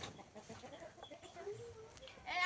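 Hens clucking in short, scattered calls amid a busy farmyard background, moderately close, with no talking.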